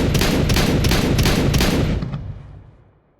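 Rapid automatic shotgun blasts from Counter-Strike 2 ring out in a loud, dense burst of about five closely spaced shots, then trail off into a fading echo, with no talking.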